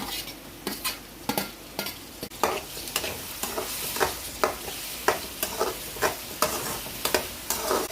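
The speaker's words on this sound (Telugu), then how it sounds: "ఇప్పుడు టమాటా ముక్కలు వేస్తున్నాను." Chopped tomato pieces sizzle and fry with onions in a pan as a spoon stirs repeatedly, giving rhythmic scraping strokes over a steady hiss while puffed rice upma is cooked in a South Indian kitchen.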